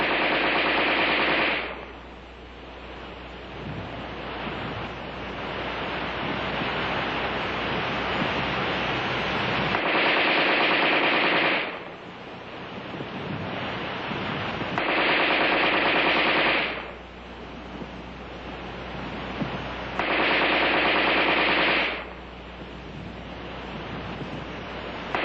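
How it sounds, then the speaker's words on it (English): An ArmaLite AR-10 rifle firing rapid automatic bursts, heard as three or four long, loud, sustained rattling volleys separated by quieter gaps of hissing background noise. "The preceding demonstration of rapid fire illustrated the use of preloaded magazines."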